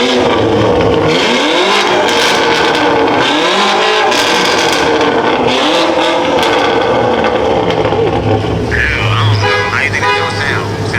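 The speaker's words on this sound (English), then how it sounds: "rev it again, he won't hear it." A BMW G99 M5 fitted with downpipes revs loudly up close in repeated rising and falling bursts of a harsh exhaust, while voices talk over it.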